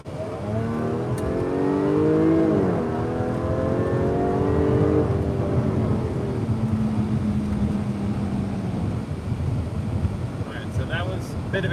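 2021 Jaguar F-Type P380 R-Dynamic Convertible, a V6, accelerating hard around a corner: a loud, close engine note climbs in pitch through the gears and then settles into a steady drone, with wind noise and someone talking over it.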